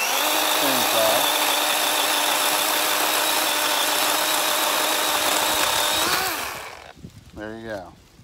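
A Dewalt chainsaw runs steadily at a loud, close high-pitched whine for about six seconds, then winds down and cuts off, followed by someone speaking.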